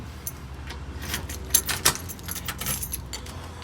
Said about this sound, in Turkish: Anahtarlar bende.